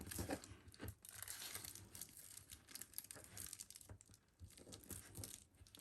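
Paper being folded by hand for a December Daily craft project, a close, quiet run of soft crinkling and rustling with brief crisp creases, heard alone.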